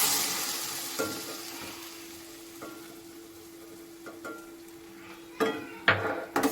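A tomato, green chili and cashew puree goes into hot oil in a pan, starting with a bright hiss that fades to a low simmer, with scattered clinks and stirring scrapes near the end.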